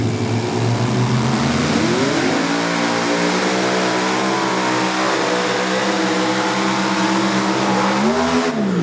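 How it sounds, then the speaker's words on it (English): Engines of a super modified pulling tractor at a Hillsboro, Wisconsin pulling event roar loud and sustained, rising in pitch as they rev up, then dip and climb again near the end, with no talking. "You could hear those engines zing up."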